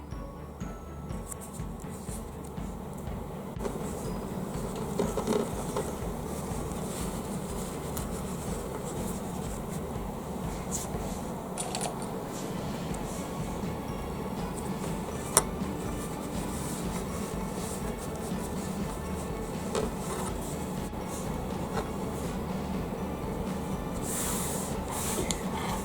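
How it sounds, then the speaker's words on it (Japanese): A sewing machine stitches a small scrap-fabric pouch with quilt batting folded inside, giving a continuous, fairly quiet mechanical whirring and rattling that runs throughout with no talking. "これを中に入れて縫っていきます。"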